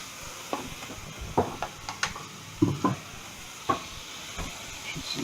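A minced pork burger patty sizzling in a frying pan, with a soft steady hiss under scattered sharp spatula scrapes and clacks, close by.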